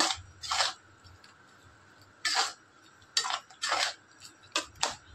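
A metal spoon scraping and stirring spice masala with cumin, Kashmiri chilli powder and meat masala in a pan, in several separate loud bursts of rasping scrapes with quiet gaps between, no voices.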